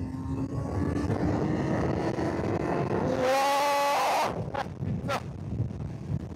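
A Honda CB1000 Hornet SP motorcycle on the road, with a rising engine whine that swells to a loud, bright rev for about a second before cutting off, then short bursts over steady wind and road rumble.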